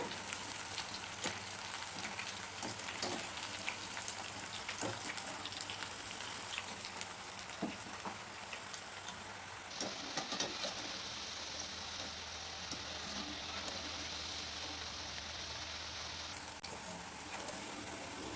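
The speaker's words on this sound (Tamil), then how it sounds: "ரெண்டு சைடும் திருப்பி விட்டு நல்லா வேக வச்சு எடுத்துக்கோங்க" Ragi vada deep-frying in hot oil gives a steady, dense crackling sizzle that carries on evenly throughout, close and continuous with no voices over it.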